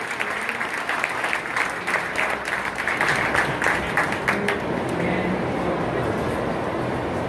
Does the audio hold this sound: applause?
yes